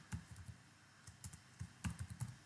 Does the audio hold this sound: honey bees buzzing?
no